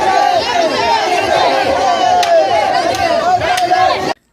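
A dense crowd shouts and chants together in a Durga idol immersion procession, with many voices massed loud and close in a continuous roar, a few sharper cries breaking through, before it cuts off abruptly.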